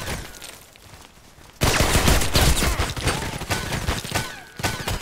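Rapid HK USP pistol shots in the game Contract Wars, close and loud, a dense fusillade of cracks starting after a quieter lead-in and continuing steadily with brief gaps, no talk.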